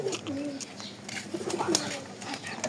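Domestic pigeons kept at a house coo softly in low, rolling calls, with a few chirps and faint background voices nearby.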